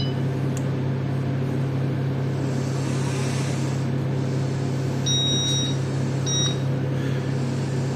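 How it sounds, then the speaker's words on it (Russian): Beeping from a gearbox joystick as it is switched on, a few short electronic tones standing out over a steady loud low hum of machinery. "включаем джойстик, у нас должен пойти писк"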